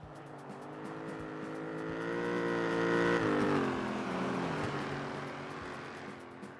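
Racing car engines in Grand Theft Auto rev and rise in pitch as cars approach and pass, swelling to a peak midway then fading, with a steady motor drone throughout.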